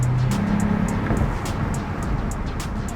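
A car coasting and accelerating down a mountain road at around 50 to 60 mph, on a daily driver with warped brake rotors, gives a steady, close broadband road and engine rumble with low tire noise throughout.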